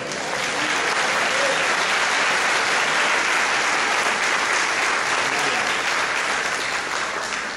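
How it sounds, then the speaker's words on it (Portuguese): A church congregation applauds during a Portuguese-language sermon, producing a dense, steady wash of clapping that stays loud and even for the whole stretch. "Pode aplaudir ao Senhor."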